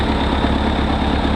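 An old tractor engine runs steadily at idle, a dense low rumble with a faint rhythmic chug that holds constant and close throughout, with no voices.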